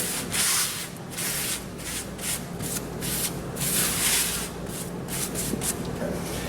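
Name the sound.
wiping loose debris out of conveyor oven with paper towel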